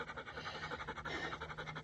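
A runner breathing heavily, quick rhythmic panting repeating steadily at close range but faint and low in level, with no talk.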